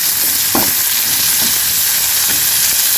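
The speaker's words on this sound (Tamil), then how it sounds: "அரைஞ்சி வச்ச 2 தக்காளி அது நல்லா பச்சை வாடை போகட்டும். நல்லா வதக்கிக்கலாம்." Two ground tomatoes sauté in a pan for a dried-fish thokku, giving a steady, loud sizzle throughout, with a few brief scraping stirs breaking through.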